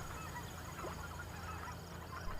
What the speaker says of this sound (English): some white-fronted and Canada geese, a couple of pelicans even